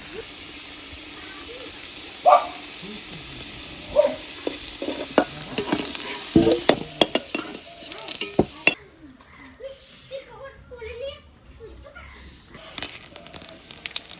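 Potatoes for a meat dish sizzle and hiss in hot oil with scraping stirs and occasional clinks of a utensil; the frying quiets partway through.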